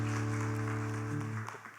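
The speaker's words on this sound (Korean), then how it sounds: "우리 하나님께 감사의 박수." A church congregation applauds in thanks during a worship seminar service, a soft wash of clapping over sustained piano chords that fades out toward the end.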